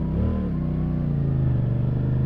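CFMoto 450CL-C motorcycle engine while riding, a steady low throbbing rumble whose pitch dips early on, then holds an even drone close to the microphone.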